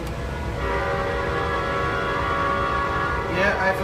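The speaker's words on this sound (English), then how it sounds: "Horn model SL. On the P40F." A model SL horn on a P40F locomotive sounds a long, sustained multi-tone blast over rumbling train noise, easing off at the end as a voice begins.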